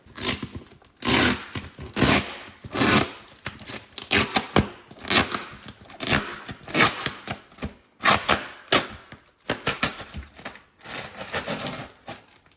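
A box of Spec-D tail lights for a 2016 Genesis Coupe is opened by hand: a long run of crisp tearing, scraping and rustling bursts, loud and close, with short pauses between them.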